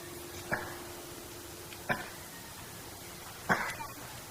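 Three short, sharp coughs from a baby, spaced a second or so apart, fairly quiet against a faint steady hum, with no talking.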